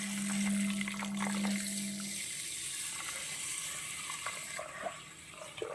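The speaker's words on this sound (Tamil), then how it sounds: "நம்ம நிறையா தண்ணி ஊற்றணும்." Water pouring steadily from a bottle into a container for homemade flaxseed gel, a continuous close splashing trickle with a steady hum under it early on.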